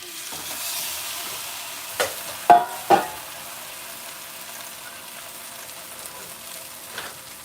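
Unleavened plant-based French toast fries in a hot, oiled pan, giving a steady sizzle with a few sharp stirring or scraping clatters in the middle and one near the end.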